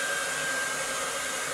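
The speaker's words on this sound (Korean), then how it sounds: "생활 소음의 끝판왕 어 드라이기를 킬 건데" A hair dryer runs indoors with a steady, even whine and airy hiss, constant and fairly close throughout with no voices over it.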